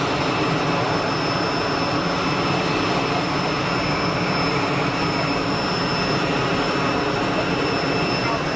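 A Geneva Air airliner comes in to land, its jet engines giving a steady, loud broadband roar that holds evenly throughout with no voices.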